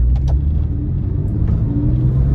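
A Porsche 997 sports car engine rumbles steadily at close range, a deep continuous drone with slight shifts in pitch as it drives.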